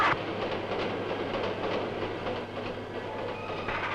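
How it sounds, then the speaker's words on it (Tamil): A steady, loud rumble of a train on the rails with a faint rhythmic clatter of wheels, filling the whole stretch without pause. "ஜெயா, ரயில் வந்துட்டு இருக்கமா, நான் சொல்றது கேளு."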